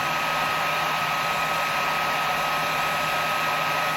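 A hair dryer blows steadily and loudly at close range, drying a part during a pickup change on an early vintage left-handed Stratocaster guitar, with an even, unbroken whoosh and no talking.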